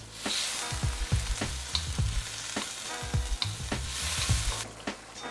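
Iraqi fish fillets simmering in herb sauce come up to a boil in a pan, giving a steady close bubbling sizzle broken by repeated low knocks and scrapes of a utensil at an irregular rhythm, with no voices.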